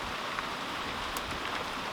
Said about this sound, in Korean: 비가 아까같이 살살만 오면 괜찮은데